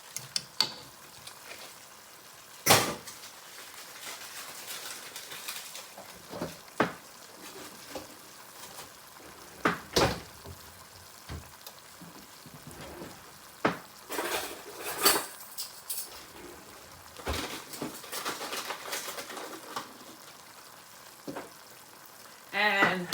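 Tomato paste being stirred into a pan of sauce for chicken sausage baked ziti, with a low sizzle and scattered scraping and clinking of a utensil against the pan, irregular strokes through the whole stretch.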